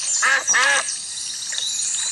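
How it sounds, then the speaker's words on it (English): Cartoon ducks quacking in a Peppa Pig video game, two short bursts of quacks close together near the start, followed by softer game sounds. "And here come the ducks."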